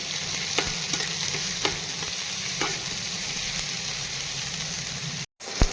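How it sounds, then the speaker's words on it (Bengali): Vegetables for a pointed gourd dish sizzle in hot oil in a pan while being stirred. A steady frying hiss runs throughout, with occasional scraping stirs and a brief pause near the end. "যাই হোক চলো ভেজে নিই"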